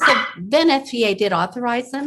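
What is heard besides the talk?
small dog yapping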